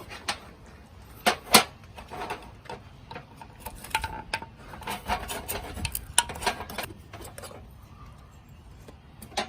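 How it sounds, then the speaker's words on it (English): Brown paint being stirred in a can, producing irregular scraping, tapping and swishing sounds in uneven bursts, close and moderately loud, with no talking. "I'm going to have Isabelle start stirring"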